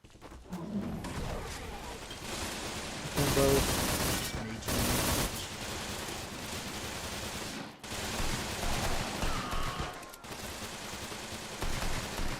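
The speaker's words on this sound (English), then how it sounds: "there is somebody taking shots at me from downtown" Video game gunfire crackles in dense bursts and sustained automatic volleys, a player under attack from shots fired downtown, loud and continuous with a few louder blasts.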